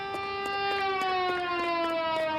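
Police sirens wail loud and continuous in the L.A. Noire video game, several overlapping tones sliding steadily, with sharp impacts punctuating them.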